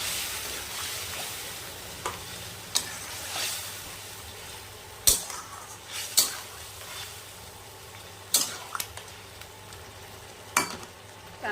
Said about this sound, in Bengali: সামান্য কিছুই জল দেবো আমি।